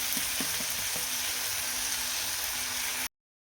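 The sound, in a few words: tomatoes sautéing in oil on low gas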